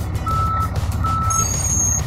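A car carrier truck backs up with two steady reversing beeps, separated by a short pause, over a loud rumbling diesel engine; a fainter higher chime sounds near the end.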